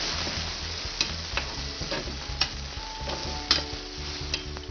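Food frying in a pan over low heat is stirred, with scraping utensil clicks and soft sizzle running steadily throughout, close and moderately loud with no talk.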